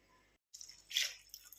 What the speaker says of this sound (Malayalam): എടുത്തു വെച്ചിരുന്ന പുളിവെള്ളം ഒഴിച്ച് ജാറ് കഴുകി ഇനി ആ വെള്ളം കൂടി അതിലേക്ക് ഒഴിച്ചു കൊടുക്കാം